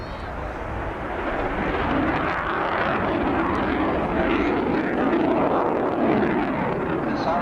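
A military jet flies past at the 1989 RAF Scampton airshow, a broad, steady roar that swells slightly as it passes, with a commentator talking over the noise.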